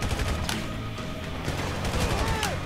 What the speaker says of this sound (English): if I peek my head up, even if it is just to shoot for a split second, they shoot me